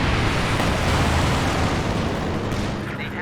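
In a Company of Heroes 2 match, Sturmovik and P-47 rocket strafing runs hit the ground, making a loud, continuous roar of overlapping explosions that fades slightly toward the end.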